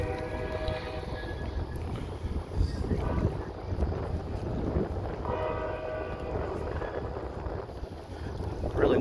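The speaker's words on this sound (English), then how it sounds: "Windy out here." Wind blowing at night along the Mississippi River riverfront in New Orleans' French Quarter, near a streetcar stop, heard as a steady low rumble buffeting the microphone with slight gusting swells throughout.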